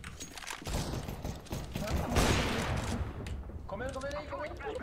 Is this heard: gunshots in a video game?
yes